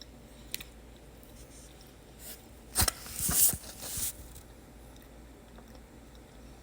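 Cooked jackfruit seeds are chewed up close. A brief cluster of soft, moist chewing and crunching sounds rises from a quiet background, then fades back to near silence.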